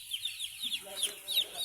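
Baby chickens peep in quick, high, chirping bursts close by, with light clucking from nearby fowl.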